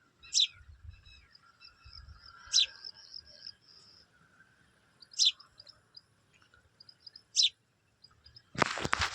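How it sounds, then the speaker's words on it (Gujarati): Sharp sparrow chirps come in four short bursts spaced a couple of seconds apart as it drinks water on a farm, with faint trilling between them and a brief rustling burst at the end. "ચકલી એક આવી ગઈ પાણી પીવા"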